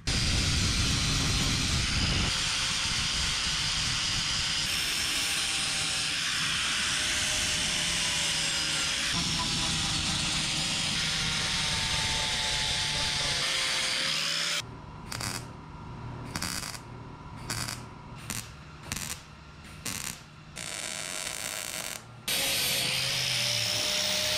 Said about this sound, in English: Then we can grind that down.